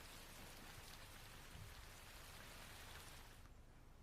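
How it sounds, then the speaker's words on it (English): Steady autumn rain falls after a long dry summer, a dense even hiss of drops on surfaces that stays constant and fairly soft, then thins slightly at the very end, with no voices. "The rain soon soaks everything right through, even after a long, dry summer."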